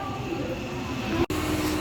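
MEMU train pulling out of platform 2 at Guntur station, heard from on board: a steady low rumble of rolling wheels and carriage noise, with a brief sharp thump near the end.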